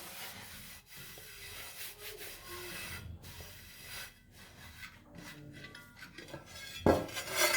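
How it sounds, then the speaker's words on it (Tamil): A cloth rubs a washed iron utensil dry with soft, uneven scraping strokes, close and quiet, and a slightly louder rub comes near the end. "இந்த மாதிரி ஒரு கிளாத் வச்சு நம்ம இதை ஃபுல்லாக கம்ப்ளீட்டாக தொடச்சி எடுத்துடலாம்."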